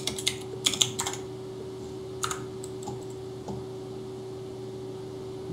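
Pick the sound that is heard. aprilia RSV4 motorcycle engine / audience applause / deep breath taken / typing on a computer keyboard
typing on a computer keyboard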